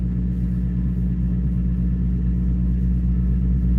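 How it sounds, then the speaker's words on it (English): A truck engine idles steadily, a deep low rumble with a regular pulsing throb that holds constant throughout, close and fairly loud, with no voices. "You don't burn that much fuel while you idle."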